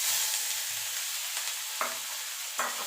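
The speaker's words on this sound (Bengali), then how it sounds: "আদাটাকে দিয়ে একটুখানি নাড়াচাড়া করে নেব।" Ginger goes into hot oil with bay leaf, whole garam masala and dried red chillies for a vegetarian paneer butter masala, hissing steadily up close while a spoon scrapes the pan twice, alone without voices.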